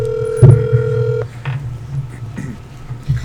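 A phone call is placed during a podcast recording. A sustained tone with a sharp click gives way to a brief electronic beep, followed by quieter line noise and faint clicks, close and fairly loud.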